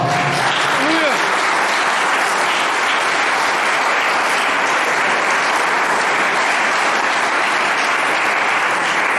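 Steady, loud applause from a church congregation fills the hall for several seconds, with a brief voice heard at the very start before the clapping takes over.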